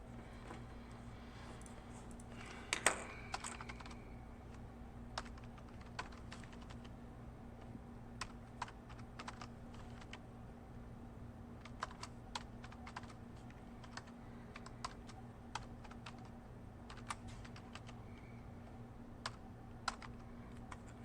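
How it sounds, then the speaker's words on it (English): Typing on a computer keyboard to enter math into Desmos: sparse, faint, irregular key clicks over a steady low hum, with no talk. "I'm going to type in Desmos here."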